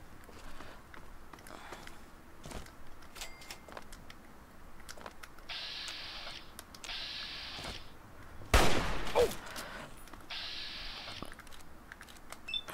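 A single Chinese pistol shot rings out in Fallout 3, one sharp loud crack standing out against a quiet backdrop of faint game ambience and soft electronic tones.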